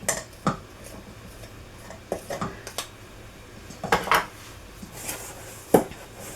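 A wooden spoon mixing chocolate chip fudge cookie dough in a bowl, producing scattered knocks and scrapes against the dish in an irregular rhythm, close and fairly quiet between the sharper clacks.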